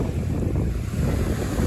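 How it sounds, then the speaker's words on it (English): Waves break against the rocky Lake Michigan shore in a steady, loud roar, thick with wind buffeting the microphone. "before the waves come again."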